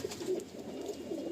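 Pakistani pigeons in a large loft coo softly in a short run of low, throaty calls, close by with faint background noise.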